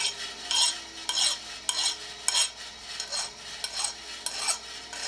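Metal file scraping burrs off the head of a bolt for a treadle grinder linkage, a steady rhythm of about nine rasping back-and-forth strokes, close and fairly loud with no talk.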